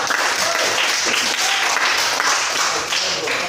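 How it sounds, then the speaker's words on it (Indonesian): Dense, steady applause from a group fills the room at a peer-teaching session for an Islamic education teacher-training class, a continuous wash of many hands clapping at even loudness with no voices over it. "Kita beri aplaus untuk kelompok 3"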